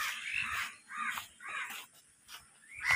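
A crow caws about five times in a loose, irregular series, fairly close and clear over a quiet village background.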